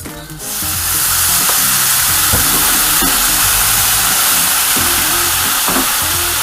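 Tsukune patties frying in a pan with a sauce of Worcestershire and ketchup, a steady loud sizzle with bubbling and occasional spatter pops, close up and without any talking.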